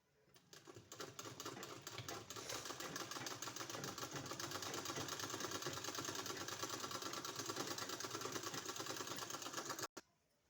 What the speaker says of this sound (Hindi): बिल्कुल पेस्टिंग का बगल में सिलाई लगाना है